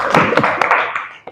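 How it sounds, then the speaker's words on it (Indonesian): A short burst of classroom applause, a cluster of close, uneven hand claps that thins out and stops within about a second, with a last lone clap at the end. "Berikan tepuk tangan."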